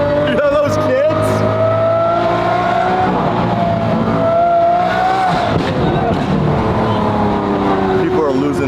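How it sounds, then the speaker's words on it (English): A race car engine with a high, screaming note like a 1990s Formula One car wails and shifts pitch nearby, loud and sustained, with crowd noise and voices mixed underneath. "the car sounds like a 90s F1 car"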